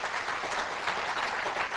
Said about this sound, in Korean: 이 박수 쳐야 돼